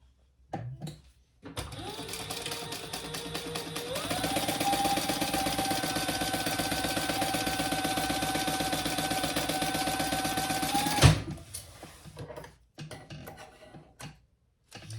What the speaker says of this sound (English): And then we're going to sew the seam allowance there